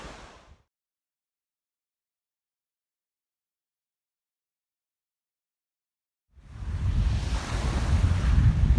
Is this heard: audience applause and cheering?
no